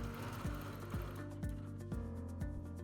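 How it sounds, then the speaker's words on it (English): A Bernina sit-down Q series quilting machine stitches quickly, a steady motor hum broken by rhythmic thumps about twice a second, close and continuous. "remember I'm quilting on a Bernina sit-down Q series"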